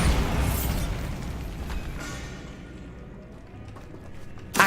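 Bombarda explosion spell in Hogwarts Legacy: a loud, close blast that bursts at once and then rumbles and crackles as it slowly dies away, followed by a sharp pop at the very end.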